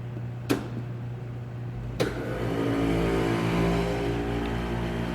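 A Thermotron SM 8 7800 temperature chamber, set to -75, starts up. Two sharp clicks come first, then a steady low hum and broad machinery whoosh build and hold, fairly close, with no voices.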